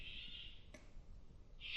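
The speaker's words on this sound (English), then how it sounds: "the cockatoos have come." Cockatoos give two faint, distant screeching calls, one drawn out at the start and another rising at the end, over a quiet background.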